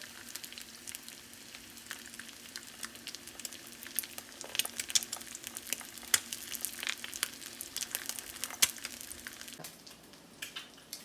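An egg frying in a pan, its white slowly setting, gives a steady, soft sizzle with fine crackling pops throughout, fairly quiet and close, with no one talking.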